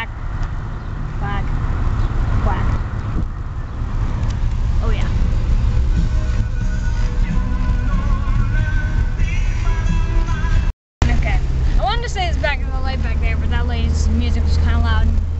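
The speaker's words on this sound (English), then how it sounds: "Just driving in a car with the window down." A car drives with its windows down, giving a steady low rumble of road and wind noise while people talk inside the cabin.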